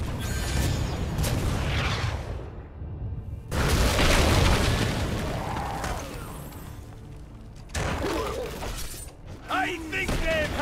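Cannon fire pounds a keep during a siege in Heroes 6, with heavy booms, crashing impacts and rumbling debris layered densely together and a battle voice shouting over the din.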